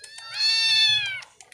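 A house cat gives one long, loud, drawn-out meow that falls away at the end, close to the listener, with a few faint household noises around it and no talking.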